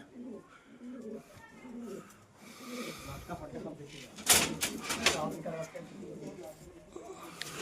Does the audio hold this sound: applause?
no